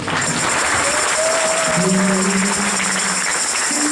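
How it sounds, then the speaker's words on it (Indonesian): A church congregation claps steadily and loudly throughout, a dense wash of hands with faint sustained musical tones running beneath it. "Mari kita beri tepuk tangan buat Tuhan."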